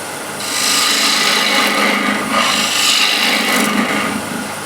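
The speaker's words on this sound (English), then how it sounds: "Just with the spindle gouge I'll actually remove some of the height here." A spindle gouge shaves wood on a spinning lathe while turning a disc flower vase, giving a steady, close rasping cut that swells and eases in a few passes, with no talking.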